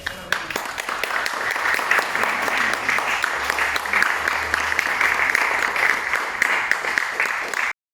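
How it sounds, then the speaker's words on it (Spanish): Sustained audience applause at an evening event in Peru on cinema, politics and corruption, steady dense clapping from a sizeable crowd that runs unbroken for about eight seconds before cutting off abruptly. "Quiero pedirles un aplauso para ella"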